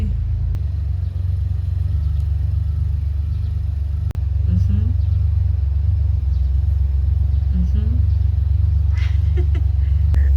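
Car engine idling and creeping at low speed with a steady low rumble while a driver manoeuvres backward into a tight home parking space; faint voices and small clicks occur over the constant drone.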